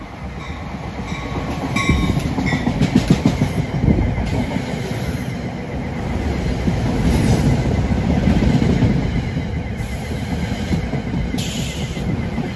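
Train rumbling and clattering steadily past as it slows for the Trenton stop near Hamilton, New Jersey, loud and close with wheel noise and a faint high whine throughout.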